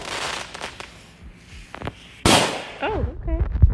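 Handheld Fourth of July fireworks are thrown and burst nearby: scattered crackles build to a loud sharp bang, followed by rising and falling whistles and further pops.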